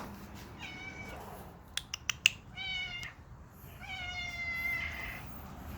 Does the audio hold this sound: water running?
no